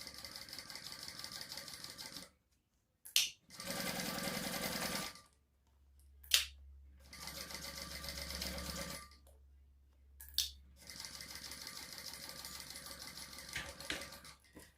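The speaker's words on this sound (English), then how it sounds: "So we're just going to sew along the top" A sewing machine topstitches along the top of a Sedona crossbody bag, whirring in several sustained runs that are split by short pauses and sharp clicks.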